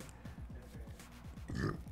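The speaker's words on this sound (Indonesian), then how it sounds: "udah mulai bersendawa" A man burps in a long, rumbling, guttural belch during a livestream of FIFA 21, close to the mic and moderately quiet.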